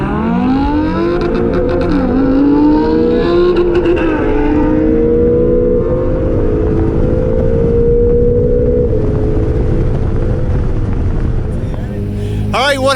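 An Acura NSX and a Lamborghini Huracan launch in a race, with loud engines revving and climbing through rising gears, then fading as they pull away, with speech over the engine noise.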